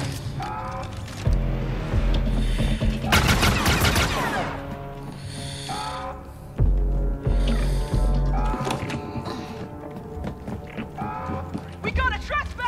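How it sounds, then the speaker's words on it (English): Blaster rifle fire in the video game Star Wars Outlaws, heard as several bursts of sharp, close shots amid game music and effects, with voices talking in between. "Blaster rifle"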